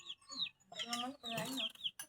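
Chicken clucking in short bursts amid a voice, close and moderately loud, with brief gaps between calls while someone feeds it.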